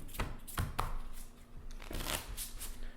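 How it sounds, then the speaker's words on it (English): A deck of playing cards is shuffled by hand while explaining poker: a few crisp riffling bursts with short pauses between them, close and fairly loud, no voices. "So I shuffle the cards"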